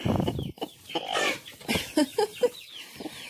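Brooding hens sitting on eggs cluck in short, throaty bursts close by, a few soft calls overlapping in a quiet coop.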